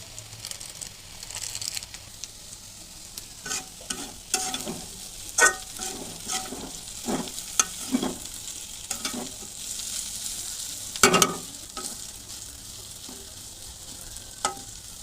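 Potatoes stirring and frying in a pan with noodle masala and salt, a continuous low sizzle broken by repeated scraping stirs and spoon clatters that come in irregular bursts.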